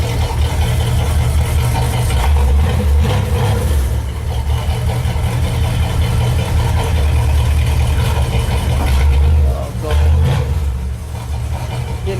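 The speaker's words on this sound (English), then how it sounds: "That's all motor right there you're hearing." The engine of an old Ford car runs loud and close, a steady low rumble with slight surges, continuing without pause.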